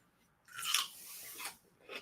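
Crunchy deli pickle chewed close to the mouth: a few wet, crisp crunching bites across two seconds, loudest at the start and then fading into softer chews, with no talk.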